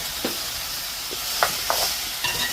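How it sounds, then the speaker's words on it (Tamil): Onions, curry leaves, green chilli and garlic sauté in a pan for a Jaffna village curry, with a steady sizzle broken by several sharp stirring scrapes, loud and close. "வெங்காயம் கருவேப்பமில்லை பச்சை மிளகாய் உள்ளி இதையும் வந்து இதுக்குள்ள கொட்டி நல்லா வதக்குவோம்"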